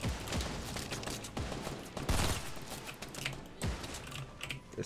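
Gunfire in the video game Fortnite: a few sharp, loud shots scattered among quick clicking bursts, fairly close, with no speech over them.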